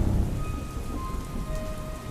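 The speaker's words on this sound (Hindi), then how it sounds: "बारिश की बूंदें टीन की छत पर लगातार टप टप की आवाज कर रही थी" Heavy rain drumming steadily on a tin roof at night by a small village railway station, a dense constant patter with low thunder rumbling underneath at the start, no voices.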